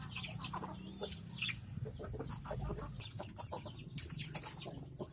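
Sick farm chickens with rattling breathing and diarrhoea cluck steadily and faintly as a flock, with occasional wing flaps and no talking.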